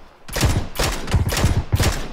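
Rapid bursts of gunfire in PUBG, close and loud, come in several quick volleys of repeated shots separated by brief pauses.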